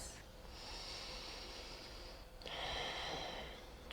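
Slow, deep breathing during a yoga hip stretch, two long airy breaths in sequence, close and soft with no talking.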